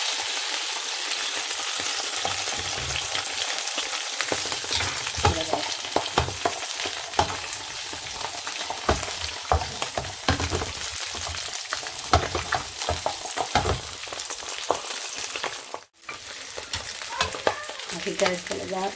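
Sea bass frying in oil in a pan until crispy, a loud, dense, crackling sizzle running steadily throughout with stirring clatter and a brief dip near the end, no talk.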